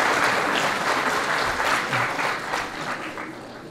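An indoor audience at a book meeting with author Wojciech Sumliński applauds warmly, a dense, even patter of clapping hands that fades a little toward the end.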